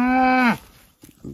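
A cow gives one loud, close, drawn-out moo lasting about half a second, followed by soft rustling and brief murmuring sounds.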